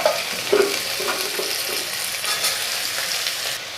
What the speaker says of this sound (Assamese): আৰু এতিয়া মই পিঁয়াজখিনি দি দিম ইয়াতে।